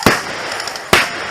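Airsoft grenade bursts during an outdoor skirmish game: two sharp, loud bangs about a second apart, each with a brief hissing decay, close by with no talk.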